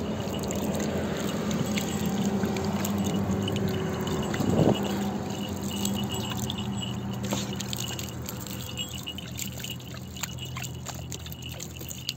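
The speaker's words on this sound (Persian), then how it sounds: "گانر کمتر بریزم یا بیشتر" Water poured from a soda bottle for a pet, a steady continuous trickling pour lasting throughout, fairly loud and close.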